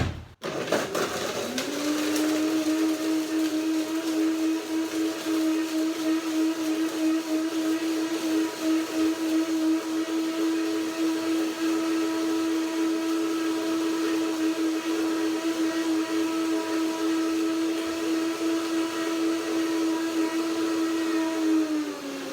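A blender starts up and whirs loudly at a steady high pitch for a long stretch, blending walnut nicecream, close and continuous with no talk.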